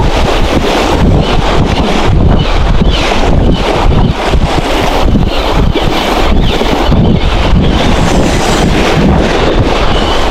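Strong headwind roars steadily against the microphone at a seaside fishing spot, loud and constant, with rushing water or surf beneath it.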